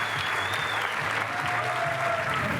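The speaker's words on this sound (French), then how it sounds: "On peut applaudir Fabien pour son intervention." Steady audience clapping after a speaker's contribution at a union-hosted energy debate, a continuous even patter of hands with no talk over it.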